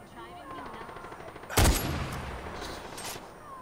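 A sharp, loud gunshot bursts out in Far Cry 4 amid steady game ambience, followed by fainter shots echoing a second later.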